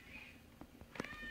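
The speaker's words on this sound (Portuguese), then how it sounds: "o gatinho tá ali que tá miando." A small kitten meows faintly in the background near a home-brewing setup, two or three short high mews near the end over low hum.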